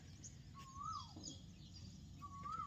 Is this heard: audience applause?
no